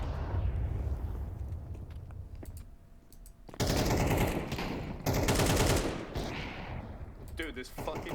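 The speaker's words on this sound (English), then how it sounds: "Some insane shots going on here." Bursts of rapid automatic gunfire in Counter-Strike 2 on a playtest map, loud crackling volleys in two long stretches with scattered single shots between, while a player talks over the action.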